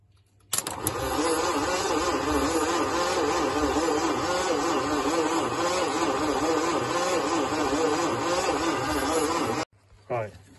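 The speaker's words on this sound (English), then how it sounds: "crank it over, Chad, we'll see if it will go" A Humber Super Snipe, hot-wired in freezing cold outdoors, cranks over loudly and continuously for about nine seconds before the cranking stops abruptly, with a short burst of noise afterward.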